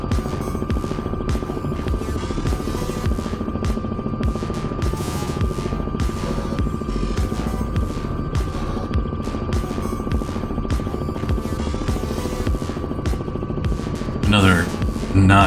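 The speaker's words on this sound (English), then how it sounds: "Another not talked about a lot or underrated feature, I think, of this helicopter is the sounds." A helicopter's rotor thrums and buzzes steadily with a constant engine whine in Microsoft Flight Simulator 2024, a synthetic-sounding in-cockpit drone that briefly shifts near the end.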